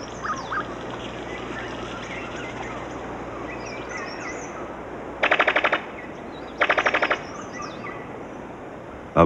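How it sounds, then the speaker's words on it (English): A brown sicklebill bird of paradise calls in New Guinea forest, giving two loud, rapid machine-gun-like rattling bursts of repeated notes, each about half a second long, over steady insect and bird ambience. "A brown sicklebill bird of paradise."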